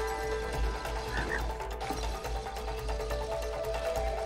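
A frog croaks in the video game It Takes Two, a few rough croaks standing out over a continuous low game hum and faint clicks.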